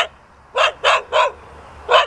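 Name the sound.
dog barking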